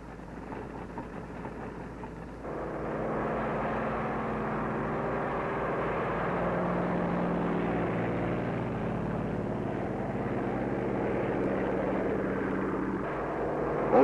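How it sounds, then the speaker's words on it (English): Propeller aircraft engines drone steadily as control planes take off from an aircraft carrier, a broad continuous roar that swells suddenly after a few seconds and holds loud to the end. "Also taking off from the carrier are control planes that will guide the radio-controlled drone boats."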